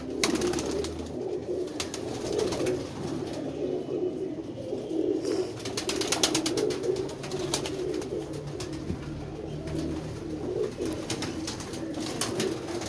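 Pigeons coo in soft, repeated throaty calls that run continuously at moderate distance over a low background rumble, with no talk.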